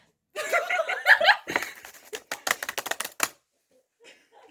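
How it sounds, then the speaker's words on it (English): A cat runs across a computer keyboard, setting off a rapid, uneven clatter of keys close up, mixed with stifled laughter before and during the tapping, then a couple of faint clicks as things go quiet. "For context, Cat just ran down on the keyboard."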